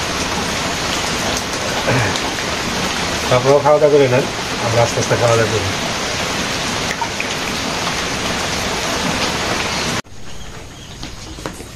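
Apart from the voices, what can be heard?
rain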